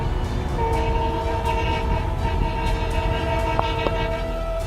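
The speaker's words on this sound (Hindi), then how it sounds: "मालगाड़ी ड्राइवर काफी दूर से ही इन लड़कों को देख रहे हैं और बार बार ट्रेन का विसल बजा रहे हैं।" A freight train approaches on a railway track with its horn sounding in long held tones, two brief sharp accents near the end, and a steady rumble of the train throughout.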